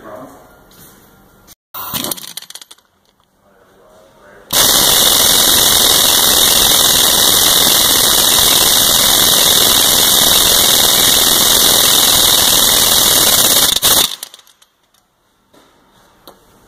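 A pneumatic impact gun hammers a bolt tight during a timing belt and water pump job on a 2010 PT Cruiser 2.4L, with a loud, sustained rattling burst lasting about nine seconds, preceded by a brief short blip, close up.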